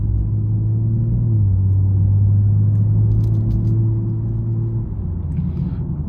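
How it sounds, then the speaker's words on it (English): A 2022 BMW M240i engine drones loud and steady while driving, its pitch shifting at a couple of points as the car changes gear, with no one talking over it. "I'm just gonna shut up for you guys and let the M240i do the talking."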